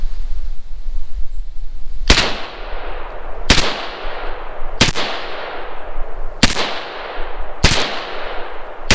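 Five loud, sharp shots ring out evenly spaced about a second apart from a Glock pistol fed from Korean-made magazines, each with a short echoing tail over steady outdoor background noise.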